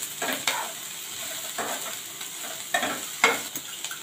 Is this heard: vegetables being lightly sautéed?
yes